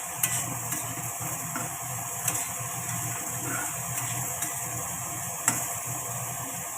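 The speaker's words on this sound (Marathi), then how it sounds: "हे चांगलं मिक्स करून घेऊया." Kurdai, a thick gram-flour sev, cooks with tomato in an iron kadhai, a steady soft sizzle running under a few faint scrapes and taps of a spoon as it is mixed, no talking.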